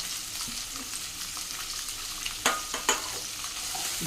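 Vegetables, including cauliflower, sizzle loudly in a hot pan for tomato paneer pulao, a close, constant frying hiss broken by a couple of sharp scraping stirs partway through.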